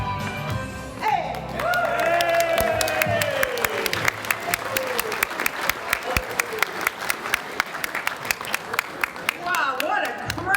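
Applause from an audience at a comedy show starts as a piano-led song is ending, with shouts and cheers mixed in, then builds into dense, steady clapping that fills the room.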